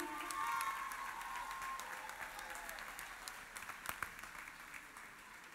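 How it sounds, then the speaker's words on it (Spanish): An audience at a book fair concert applauds a band, a fairly quiet, fading wash of clapping heard from a little distance, with a few louder claps near the end. "Fuerte el aplauso para mi banda, amigo."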